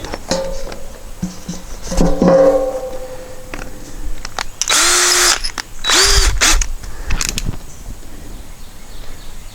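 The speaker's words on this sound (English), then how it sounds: "take that small bit, run a pilot hole through there to the other side" A drill with a small bit boring a pilot hole through timber while building a backyard pavilion, with two loud sustained whirring bursts among scattered clicks and handling knocks.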